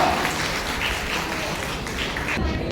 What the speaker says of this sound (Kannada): ಜೋರಾದ ಚಪ್ಪಾಳೆ. ಕೇಳಿಸ್ತೀರ? ಚಪ್ಪಾಳೆ ಜೋರಾಗಿರ್ಬೇಕು